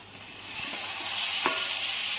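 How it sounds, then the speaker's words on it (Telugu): Tomato pieces frying with ginger-garlic paste in a pan for a gongura meal maker curry, giving a steady close hiss of sizzling with a brief sharper burst midway, no talk. "ఇప్పుడు టమాటా ముక్కలు వేసుకుంది"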